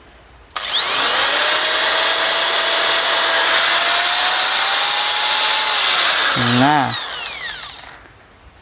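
An electric drill powered from a 2000-watt pure sine wave inverter whines steadily and loudly for about six seconds, its pitch dipping slightly before it winds down and stops, with a brief spoken word at the start.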